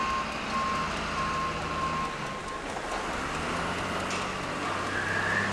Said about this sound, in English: So we call it a zipper truck.